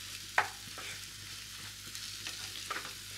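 Spice masala with Kashmiri chili powder frying in a pan for a steamed egg curry, a soft steady sizzle broken by a few scraping stir strokes.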